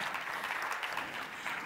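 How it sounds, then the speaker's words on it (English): Brief applause from a conference audience at an SME assembly event, a steady wash of many hands clapping at moderate volume, heard alone without talk. "A big applause"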